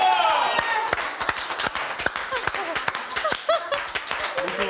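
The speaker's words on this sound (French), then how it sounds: "on applaudit cette inhabituelle bravoure" Applause and clapping from a studio audience at a televised reality-show award ceremony, as Christophe receives a golden loft trophy; dense sharp claps fill the room with a few voices mixed in.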